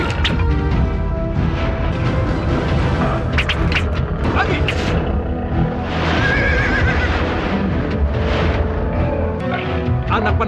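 A flying horse neighs loudly in a fantasy battle scene, with whinnies rising over booming impacts, hoof clatter and dense commotion, while voices shout throughout.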